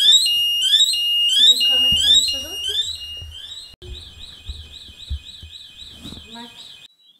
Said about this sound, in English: we seem to have set off an alarm that may or may not have just woken up the entire accommodation